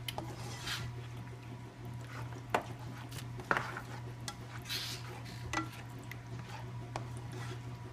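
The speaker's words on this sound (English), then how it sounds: "I take this spoon and I'm going to stir it all together." A spoon stirs a meat mixture, producing faint scrapes and occasional light clinks that sit quietly over a steady low background hum.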